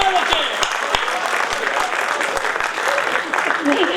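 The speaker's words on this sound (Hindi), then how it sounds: "आदरणीय मिश्रा जी, आप भी ताली बजा सकते हैं।" Steady applause from a poetry-recital audience, a dense wash of clapping with a few sharper claps standing out, while a voice speaks over it.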